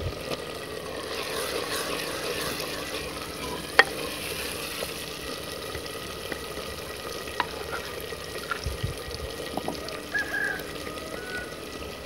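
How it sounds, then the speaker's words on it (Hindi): Spice paste fries in a cooking pot while being stirred, with a continuous moderate sizzle, occasional clinks and scrapes from the spoon, and a faint bird call in the background. "जो हमने पेस्ट बनाया था वो पेस्ट हम हांडी में डालेंगे।"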